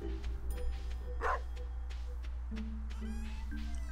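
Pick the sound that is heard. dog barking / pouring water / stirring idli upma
dog barking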